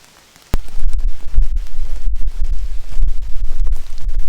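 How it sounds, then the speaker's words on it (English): Rain falls steadily in a hemlock forest near Plum Lake, Wisconsin, a loud dense patter on nearby surfaces that starts abruptly and continues alone with heavy low rumble. "It's raining."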